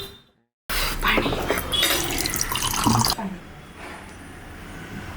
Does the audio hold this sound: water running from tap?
yes